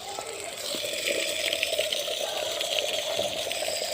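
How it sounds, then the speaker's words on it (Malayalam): Water pours steadily onto a potted plant, a continuous splashing gush that stays fairly even and close for the whole stretch, with no voices. "ഇപ്പോൾ വെള്ളം ഒഴിക്കുന്നുണ്ട്"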